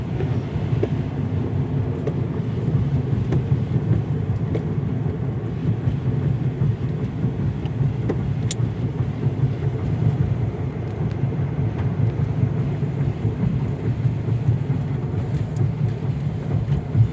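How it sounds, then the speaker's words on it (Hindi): A car rolls over highway rumble strips on a drive from Jabalpur to Indore, a steady, loud, low droning rumble with road and engine noise filling the whole stretch, without speech. "कंटिन्यू इस रंबल्स की आवाज़ आ रही है गाड़ी में"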